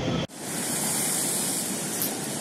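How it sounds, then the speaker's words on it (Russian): Storm surf pounding a high seashore in winter, a loud continuous roar of crashing waves after a brief dropout at the start, with no speech. "Какие волны до третьего этажа разбиваются."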